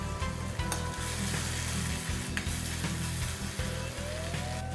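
A slit green chili drops into a hot pan of Indian East-state cooking and sizzles steadily and loud, a continuous close frying hiss with faint stirring knocks and no voice.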